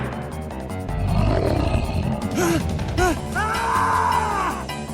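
An anime character lets out a loud, strained scream that rises and falls over a few seconds, with roaring, growling effects and a rumbling background mixed in.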